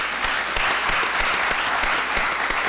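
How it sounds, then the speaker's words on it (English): Conference audience at an early childhood development event applauding panelists at the end of a session, a loud, dense burst of many hands clapping with sharp individual claps standing out, steady throughout. "Please join me in clapping for them."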